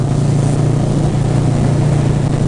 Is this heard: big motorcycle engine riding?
yes